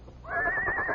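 A horse whinnies once, a short rising neigh that swells in and holds steady at moderate volume, with no other sounds around it.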